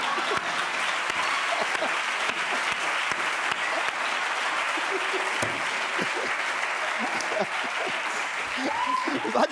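A studio audience at a Spanish late-night talk show applauds in a steady, dense wash of clapping that carries on for several seconds, with a few voices briefly audible near the end.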